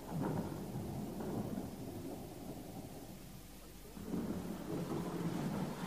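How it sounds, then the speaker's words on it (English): Thunder from a building storm rolls as a deep, continuous rumble that eases slightly midway and then swells louder again toward the end, with no other sounds. "Quite a storm building out there."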